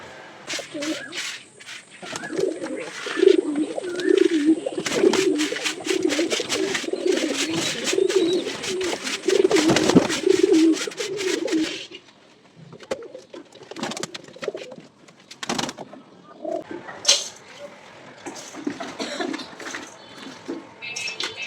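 Pigeons cooing in a home pigeon loft during morning feeding and cleaning, repeated low throaty coos close by, with a person talking over and between them and some handling clatter.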